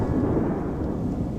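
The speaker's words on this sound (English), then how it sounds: "I'll stay there till the storm passes" Low rumbling thunder from a storm rolls on steadily and fairly loud, a continuous deep roar with no one speaking.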